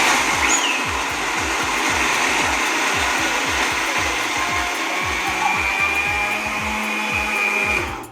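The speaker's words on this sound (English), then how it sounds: "let's just start blending" A blender grinding peanuts into homemade peanut butter, running loud and close with a harsh steady whir and rapid low chopping pulses, continuous for about eight seconds before stopping at the end.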